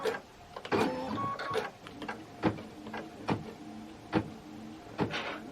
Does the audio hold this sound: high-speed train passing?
no